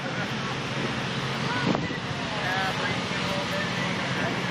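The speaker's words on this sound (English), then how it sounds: "Just hear all that water going through." Heavy rushing spray of water from the Seattle fireboat Leschi, a steady broadband hiss with wind and surf noise, while people talk nearby.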